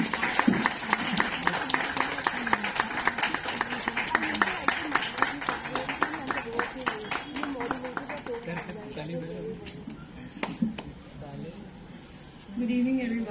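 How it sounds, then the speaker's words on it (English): An audience claps steadily at a live speaking event as a woman walks up to the stage, a dense run of hand claps that thins out toward the end, with voices over the top. "Clap till she comes here."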